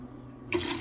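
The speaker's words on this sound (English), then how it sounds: "And to this I'm adding 6 cups of water." Water poured into a soup pot, a sudden bright splashing rush that starts midway and continues loud over a quieter kitchen background.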